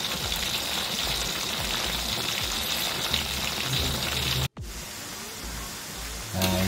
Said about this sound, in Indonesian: kita goreng sampai kriuk ya.